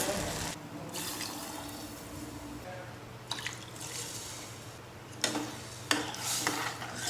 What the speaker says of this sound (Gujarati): એક વાટકા સામે ત્રણ વાટકા આપણે પાણી ઉમેરીએ